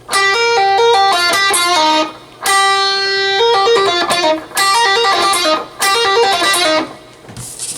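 An electric guitar plays a bluesy lick, with quick hammer-ons and pull-offs and held bent notes in loud, close phrases separated by brief pauses, with no talking.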